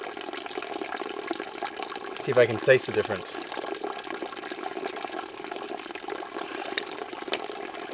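Mountain spring water runs straight from the source in a steady, hissing outdoor flow, with someone talking briefly over it.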